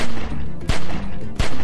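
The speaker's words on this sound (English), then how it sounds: "Let me just shoot." Loud gunshots from The Walking Dead: 400 Days video game, two sharp broadband blasts roughly 0.7 seconds apart over a dense, noisy game background.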